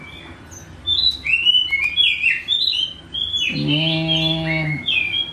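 Songbird that bores its own nesting holes in trees, giving a series of bright, sharp chirps and whistled calls, with a longer harmonic call near the middle, fairly close and clear over faint background.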